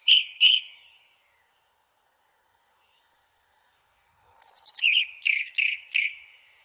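Short bursts of bird chirping: two quick chirps, a pause, then a rapid run of bright tweets and calls, clear and fairly close.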